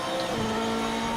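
Race car engine in Project Motor Racing revving steadily at high pitch while upshifting, a constant loud close-up drone.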